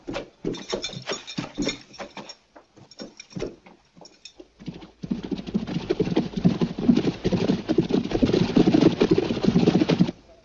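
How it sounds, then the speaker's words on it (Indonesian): Several horses clip-clopping near a village, hooves beating in uneven bursts with short pauses, then a denser steady patter of hoofbeats continuing to the end, close and fairly loud. "Bawa kuda-kuda ke belakang dan kasih makan secukupnya"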